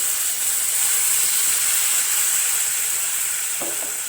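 Green chillies sautéing in a pan for Chettinad pacha milagai mandi, a steady loud sizzle and hiss throughout with a faint clink near the end.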